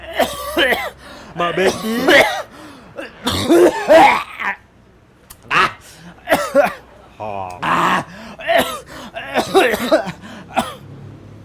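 A person coughs and clears their throat in several rough bursts, mixed in with steady conversational speech from more than one voice.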